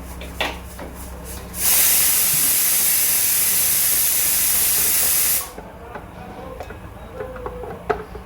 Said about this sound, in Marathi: आता कुकरची पण पहिली शिट्टी एक आली की लगेच फास्टमध्ये येतात